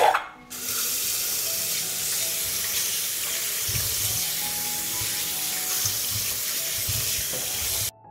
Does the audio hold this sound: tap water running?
yes